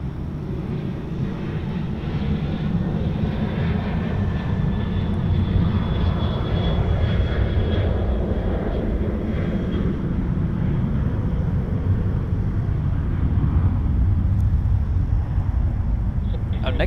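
A jet airliner departing Sydney Airport produces a steady, loud, broad engine roar that holds for the whole stretch, with some talk faintly underneath.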